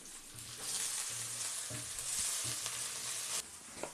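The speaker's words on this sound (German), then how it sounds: "Beide Pilzchen, die braten wir jetzt ebenfalls schön an." Mushrooms and potatoes fry in a pan for a warm salad, a steady close sizzle with intermittent stirring scrapes and soft clatter, loud and continuous with no talking.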